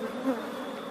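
Honeybees buzz steadily during a hive inspection, a close, continuous droning hum with no voices over it.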